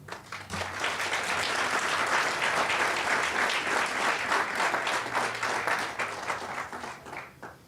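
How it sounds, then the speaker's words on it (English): A resounding round of applause fills a hall at a corporate identity launch programme, sustained dense clapping from a large audience that swells quickly, holds steady for several seconds, then thins out near the end. "with a resounding applause"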